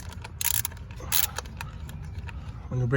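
A socket ratchet works on a spark plug of a 2011 Ford Escape, giving a few sharp clicking bursts and short metallic ratcheting strokes against low background rumble, with a heavier clunk at the end.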